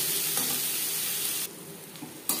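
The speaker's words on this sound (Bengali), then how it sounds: "দিয়ে দেব পেঁয়াজ কুচি" Chopped onions, cut fairly large, frying in hot oil in a pan, with a dense close sizzle and occasional stirring clicks, no voices.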